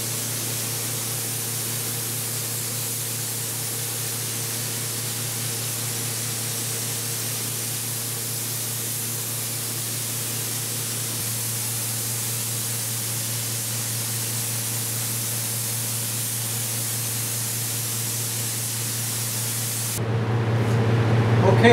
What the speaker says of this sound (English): that's the end of the first cross coat with a spray gun